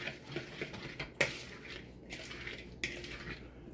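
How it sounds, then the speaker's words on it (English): A spoon stirring and clinking in a bowl of pico de gallo dressed with a little oil, soft wet mixing punctuated by a few sharp taps against the bowl, close and quiet. "Now mixing it and mix it real nice."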